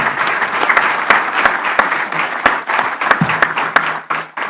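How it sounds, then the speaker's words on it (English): Loud, dense applause from an audience at a legislative coffee gathering honoring district legislators, sustained clapping with sharp individual claps standing out near the listener, briefly thinning toward the end. "let's give them a round of applause"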